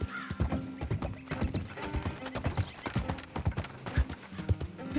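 Horse hooves clip-clop in a steady, uneven rhythm, fairly close, with a brief whinny and no talking, in the video game Red Dead Redemption 2.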